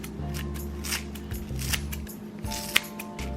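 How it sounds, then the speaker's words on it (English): Handheld herb scissors snip through fresh herbs while cooking birria beef tacos, a series of quiet, close cutting sounds with a sharp click near the end. "I have these great handy herb scissors."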